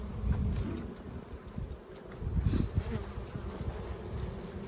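Honey bees buzzing around an opened horizontal hive during a split, a close, dense hum with individual bees droning past and faint handling knocks underneath.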